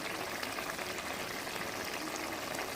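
A fish head and spinach curry simmers in a pot with a faint, steady bubbling and hissing that stays even throughout, and no voice over it.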